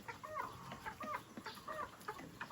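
Several geese call back and forth in quick, squawking honks at moderate distance, with no talking.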